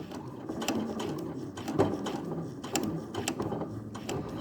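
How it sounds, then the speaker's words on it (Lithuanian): A sewing machine stitching a ruffle onto fabric with a narrow stitch, a steady close mechanical whir with rapid ticking needle strokes running continuously throughout. "Glaudžiu volaną prie pažymėtos linijos ir siuvu 3 mm pločio siūle."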